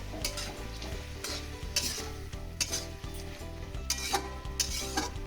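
Stirring sesame and poppy seed paste into bottle gourd greens in a pan, with a steady frying sizzle and repeated scraping strokes of a spoon at an even rhythm, close and alone.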